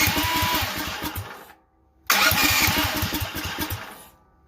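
A Duromax 440cc engine cranks and fires into a loud, rough running roar, cuts out abruptly for about half a second of near silence, then restarts and runs again before fading.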